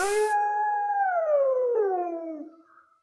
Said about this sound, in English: Wolves are really big dogs that live in the forest, and they howl really loud at night.